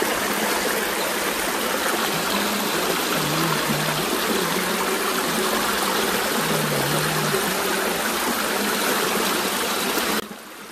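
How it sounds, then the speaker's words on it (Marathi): A steady, loud rush of flowing water pours while a Gauri idol is washed during a Marathi Gauri festival arrival, continuous and close, stopping abruptly near the end. "इथे आप्पा गौरूबाई धुवत आहे"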